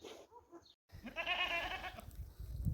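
A dairy goat gives a long, wavering bleat up close, preceded by softer animal noises and followed by rustling.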